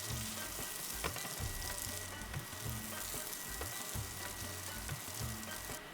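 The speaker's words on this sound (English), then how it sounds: "Now we're going to fry up our Big Mountain Cauli Crumble veggie grounds" Big Mountain Cauli Crumble veggie grounds fry in a pan with a steady, dense sizzle and crackle, close and continuous throughout, with no talking.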